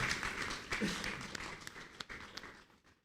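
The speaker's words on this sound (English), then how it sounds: "Another round of applause for him" Audience applause welcoming the chairman at an academic lecture, a fairly quiet, mid-distance patter of many hands that thins out and fades toward the end, with a few murmured voices underneath.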